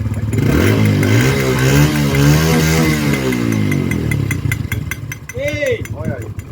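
A motorcycle revs loudly with a clattering, strange-sounding noise as the pitch rises and falls. Someone talks over the engine, and his voice rises near the end.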